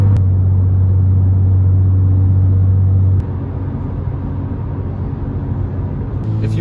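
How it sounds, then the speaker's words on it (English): A BMW M car's exhaust drones inside the cabin at constant highway speed, a heavy low hum under steady road roar, cutting off abruptly halfway and returning briefly near the end, with no talk. "If you want a good example of drone, here it is right now."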